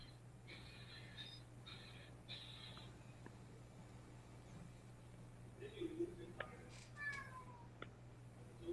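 A house cat meows faintly a few times in a quiet room over a steady low electrical hum, with soft rustles and a little distant voice.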